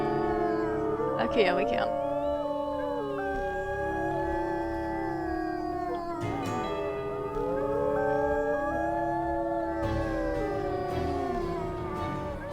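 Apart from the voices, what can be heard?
wolf pack rally howling in the video game Wolf Quest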